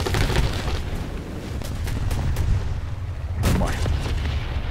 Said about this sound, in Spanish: déjame lanzar los cohetes